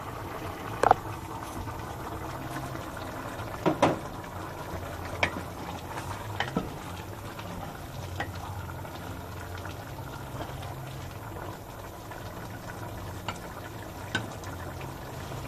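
Vinegar simmers in a pan in a quiet, steady bubbling, broken by a few sharp ticks and clicks, with no voices.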